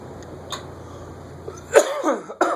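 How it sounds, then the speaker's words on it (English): A sharp cough bursts out, followed by a second quick cough a moment later, close and fairly loud over quiet background noise. "I've been coughing a lot this video."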